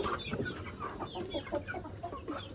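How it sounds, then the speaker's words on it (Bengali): Several young chickens kept in a coop cluck and chirp in quick, overlapping bursts, close by and busy, over a low background hum. "এর ভিতরেও মুরগি আছে"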